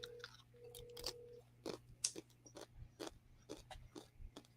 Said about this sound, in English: I hear you chewing